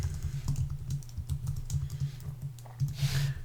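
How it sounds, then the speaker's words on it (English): Steady, rapid typing on a computer keyboard, close and clear, with irregular bursts of keystrokes and brief pauses. "I'm going to just type some indexes so you can see how"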